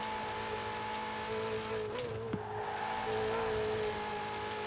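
An S2-class car in Forza Horizon 4 drives through corners with a steady engine drone, shifting pitch as it accelerates, plus a brief tire squeal midway.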